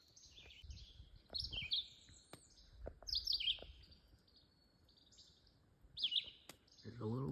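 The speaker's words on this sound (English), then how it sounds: "There's a little bird out at our camp." A small bird chirps at a campsite in Michigan, giving several quick, bright bursts of tweets with pauses between them, over quiet outdoor background noise and low rustling.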